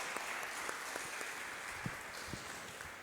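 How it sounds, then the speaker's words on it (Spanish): A church congregation gives applause for birthday celebrants, a soft, continuous patter of many hands heard from a distance, fairly faint and steady throughout. "Un aplauso a los cumpleañeros"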